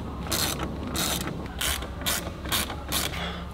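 Close ratchet ratcheting out the 7mm airbag bolts from a Ford Bronco dash, driven through an extension, in six steady bursts of rapid pawl clicks separated by short pauses, with no talk.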